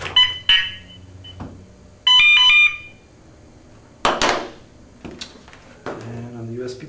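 A radar detector powered from a Duracell Powerpack 450 DC outlet switches on and gives several short loud electronic alert chirps and tones, separated by pauses, with someone speaking between them.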